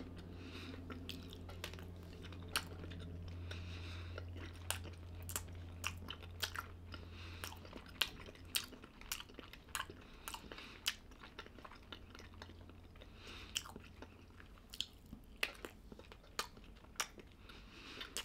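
Someone chewing an apple-ginger Christmas sausage from a Helsinki sausage factory, with close, quiet, irregular wet squishing and soft crunches repeating throughout.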